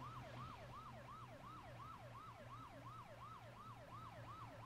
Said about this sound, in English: Do you have sirens on?